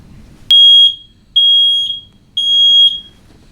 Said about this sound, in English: After hearing the smoke alarm,